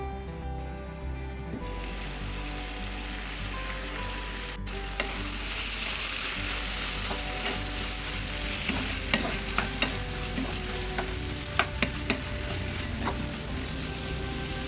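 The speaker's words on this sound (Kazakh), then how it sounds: "Бұрыш және дәмдеуіштерді қосып, жақсылап араластырып, қақпағын жауып қуырамыз." Tomato paste with pepper and spices, for a lentil soup, sizzles steadily in a hot pan while being stirred, with scattered scraping clicks over the continuous frying hiss and no talking.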